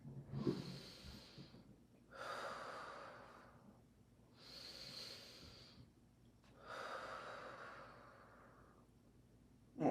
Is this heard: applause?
no